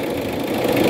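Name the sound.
Mitsubishi Adventure engine running weak and vibrating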